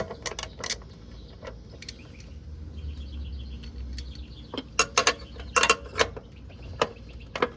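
A 13mm wrench works loose a running board nut on a Toyota 4Runner, giving sharp metallic clicks and ratcheting taps in irregular bursts, close and fairly quiet over low background rumble.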